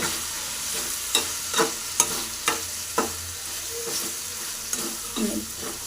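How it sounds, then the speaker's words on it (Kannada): Eggplant pieces coated in chilli masala powder are stirred in a hot pan for a Karnataka-style eggplant palya, with a spoon scraping in a series of distinct close strokes over a soft frying sizzle and no talking. "ಖಾರದ ಪೌಡ್ರ್ ಹಾಕಿದ್ಮೇಲೆ ಬದನೆಕಾಯಿ ಚೆನ್ನಾಗಿ ಮಿಕ್ಸ್ ಮಾಡ್ಕೋಬೇಕು"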